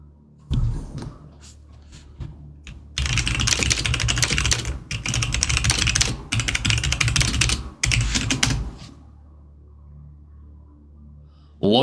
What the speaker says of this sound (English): Logitech Illuminate keyboard.